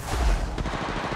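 Automatic weapon fire in the mobile battle royale game Apex Legends Mobile, a dense, loud burst of rapid shots that sounds close and fills the whole moment, with no voices over it.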